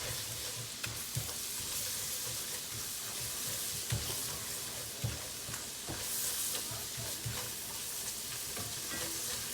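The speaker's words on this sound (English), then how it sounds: "Now I'm just gonna give this a stir" A pan of venison with flour stirred in fries with a continuous close sizzle, while a utensil scrapes and knocks against the pan in irregular stirring strokes, with no talking.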